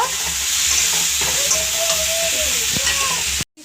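Boiled potatoes and peas are stirred into spices frying in a pan, giving a steady loud sizzle with scraping stirring strokes throughout before the sound cuts off abruptly.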